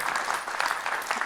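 Brief burst of audience applause at a tribute evening for a Marseille writer: a short stretch of dense, steady clapping from a gathered crowd, moderately loud.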